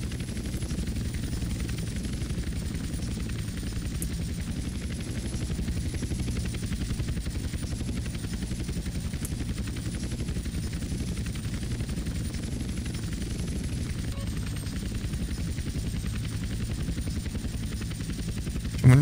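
A helicopter in the video game GTA San Andreas gives a steady, loud rotor drone that holds unchanged throughout, with no talk over it.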